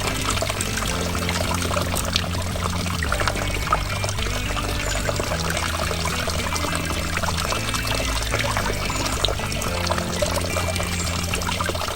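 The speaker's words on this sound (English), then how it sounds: "waterfall that we've put in" A small garden pond waterfall pours steadily into the water below, a loud, close, continuous splashing trickle with no voices.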